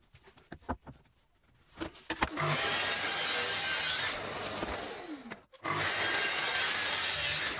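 A handsaw cuts through walnut leg sections for a mid-70s style footstool with rhythmic rasping strokes in two sustained, close bouts. Light taps and handling knocks come before them.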